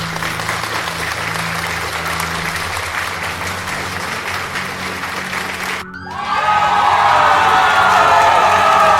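A crowd bursts into loud applause and cheering after a stretch of steady background murmur, the clapping sudden, dense and sustained to the end.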